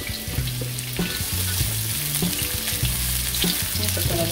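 Onion sautés in oil in a pan, a loud, dense, steady crackling sizzle with faint stirring underneath, close and continuous without talk.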